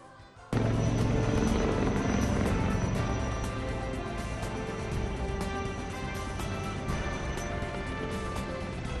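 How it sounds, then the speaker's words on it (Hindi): An Indian Air Force Mi-17 helicopter passes overhead with a sudden, loud, continuous rotor roar that stays steady and dense throughout. "इंडियन एयरफोर्स की Mi-17 हेलीकॉप्टर ने कोरोना वॉरियर्स, डॉक्टरों और पुलिस कर्मियों के सम्मान में कुछ इस अंदाज में फूलों की बारिश की"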